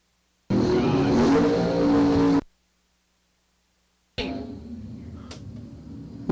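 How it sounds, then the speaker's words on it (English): Drag racing cars, one of them a Camaro, launch down the strip with a loud burst of engine roar. It cuts off abruptly, a brief silence follows, and then quieter engine noise returns from farther away. "William Balzer, the dial-in for the Camaro, is a 668 in the Land Pro left lane"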